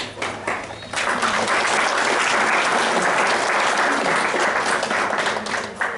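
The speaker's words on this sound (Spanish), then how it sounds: "le pedimos a ustedes de que la reciban con fuertes aplausos" A large crowd applauds loudly and steadily at a Spiritist gathering in Guatemala, sustained clapping filling the room for several seconds after a brief softer start.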